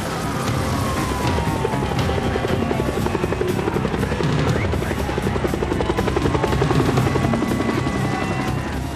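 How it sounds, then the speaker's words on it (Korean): Helicopters hovering over a burning hotel's roof during a city fire rescue, a loud continuous rotor chop and engine whine that stays steady and close throughout. "헬리콥터들이 지붕 위에서 로프를 들이웠다"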